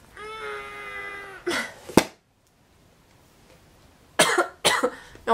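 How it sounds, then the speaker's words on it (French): Coughing in a quiet room, a few short harsh bursts close to the microphone, separated by silence after an opening tonal sound. "Et en plus je tousse."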